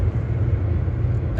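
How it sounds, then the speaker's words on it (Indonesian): A truck speeding past on the Trans-Java toll road, heard as a steady, loud low rumble and road roar from inside a moving car, with no break across the moment. "Tuh guys, truknya kenceng banget itu."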